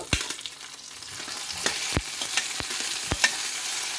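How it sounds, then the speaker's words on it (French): Potatoes tumble into a sizzling pan of sesame seeds and red chilli, giving a constant close frying hiss punctuated by sharp clicks and scrapes from stirring, with no one talking. "Je laisse ensuite encore griller ça et je verse mes pommes de terre"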